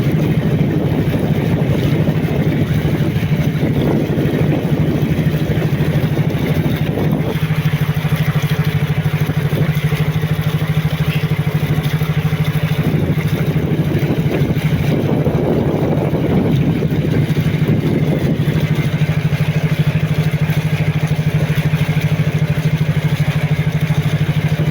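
A large moored boat's engine drones on steadily at close range, a constant low hum with light wind buffeting and no talking.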